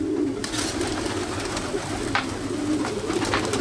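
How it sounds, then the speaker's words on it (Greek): Steady low cooing from several pigeons close by, soft overlapping coos repeating throughout with occasional light flutters and taps. "Και αυτά εδώ είναι οι περιστερίκλες μας"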